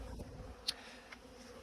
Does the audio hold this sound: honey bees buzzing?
yes